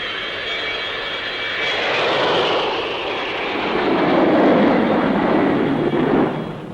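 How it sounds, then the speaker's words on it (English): A Folland Gnat, a single-seat lightweight jet fighter, roars past at an air show, its loud engine noise swelling and fading in a sustained rush with no voices. "Another easy handler is the Folland Gnat, a single-seater lightweight designed as an interceptor and strike fighter."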